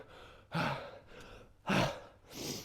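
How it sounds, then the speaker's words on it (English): Heavy, breathy exhalations after boxing practice, three loud puffs at steady intervals between quieter inhales, close to the listener with no talking. "you can't see how heavy I'm breathing as such"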